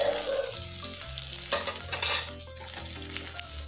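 Garlic and onion sizzling in hot oil in a pan, a loud, close, continuous crackling hiss with some stirring scrapes, over faint background music.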